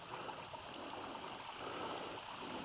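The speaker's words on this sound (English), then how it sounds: "check out this waterfall that would not normally be flowing" A waterfall at desert ruins, not normally flowing, pours into a small creek, making a steady broadband rush of water, moderately close and continuous, with no talk over it.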